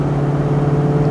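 A 1984 Jeep Grand Wagoneer Limited 4x4 engine hums steadily while driving, a close, even drone with a faint rhythmic pulse and no voices.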